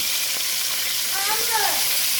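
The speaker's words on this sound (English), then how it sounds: "now we're going to start frying them up" Bagged collard greens fry in a pan with a loud, steady, close sizzling hiss, and a brief voice is heard partway through.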